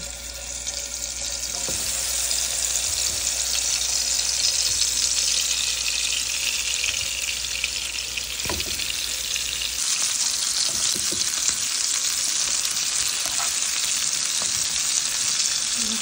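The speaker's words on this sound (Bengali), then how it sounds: "এখন সবগুলো মাছ ভেজে নেব, হালকা ভেজে নেব।" Bata fish pieces lightly frying in oil in a pan give a loud, continuous, even sizzle throughout, with occasional faint clicks and no talking.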